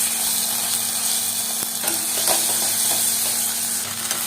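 Nutrela soya chunks and potatoes sizzle in oily masala, a steady, fairly loud frying hiss with scattered stirring scrapes and clicks.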